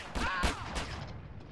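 Gunfire in the video game GTA San Andreas: three sharp shots in quick succession, loud and close, each trailing off into a short echo.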